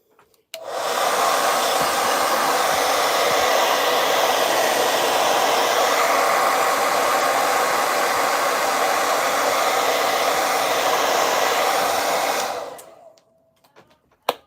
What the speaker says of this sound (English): Okay, blow dryer time.